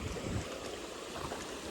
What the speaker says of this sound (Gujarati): આ તમે જો પાણીનો પ્રવાહ બહુ વધારે છે આ બાજુ